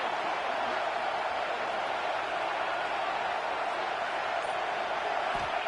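A football stadium crowd cheering steadily in a roaring, unbroken wash of noise that holds a constant, fairly distant level throughout with no distinct voices standing out.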